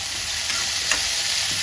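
Brinjal pieces and onions fry in a pan with a steady, close sizzle and faint stirring scrapes, with no talk.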